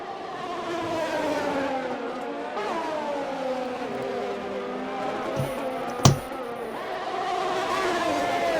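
Race cars in an Xbox racing game at the Dutch Grand Prix, engines whining as they rise and fall through gear changes, with one car closing on another and a sharp impact thump midway.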